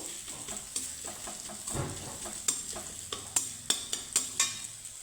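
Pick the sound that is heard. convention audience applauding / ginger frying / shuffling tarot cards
ginger frying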